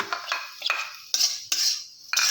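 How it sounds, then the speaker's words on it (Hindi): Lumps of jaggery tipped into a pan of roasting semolina sheera, with a metal spoon clinking and scraping against the pan in sharp, uneven bursts, close and clear, no voices. "अभी इसमें हम शाही पद्धत से इसमें हम गुड़ डालेंगे"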